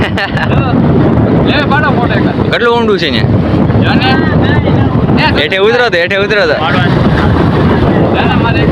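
Strong sea wind at the coast by Koliyak Nishkalank Mahadev roars and buffets the microphone constantly, with voices talking loudly over the blustery noise.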